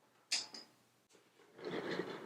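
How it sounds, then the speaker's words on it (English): A home printer makes mechanical noise nearby: a sharp click and whir, a pause, then a louder grinding, rattling run of its mechanism. "The noise from my printer shouldn't be on."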